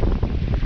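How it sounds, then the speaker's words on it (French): A 12-knot breeze rushes across a sailboat at sea, buffeting the microphone with loud, gusty low-frequency wind noise throughout the short moment. "on est cueilli par cette belle brise de 12 nœuds de vent"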